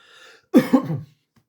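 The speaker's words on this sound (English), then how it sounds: "got a bit of a cough coming" A single close, raspy cough, preceded by a faint breathy sound and followed by silence.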